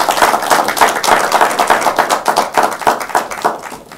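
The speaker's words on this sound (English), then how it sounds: "A round of applause for them." Audience clapping for law faculty contestants at a university law quiz competition, a brisk, close run of hand claps with uneven rhythm, fading slightly at the end.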